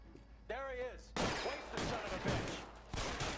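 Rapid gunfire in the LA Noire game, a burst of sharp loud shots in quick succession with a further shot near the end, following a brief voice.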